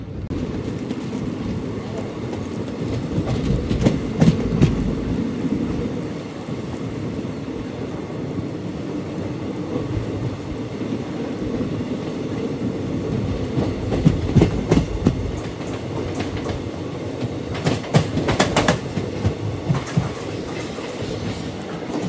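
An Aurangabad–Guntur Express passenger train rolls steadily along the rails with a continuous low rumble and occasional rhythmic clacks from the wheels.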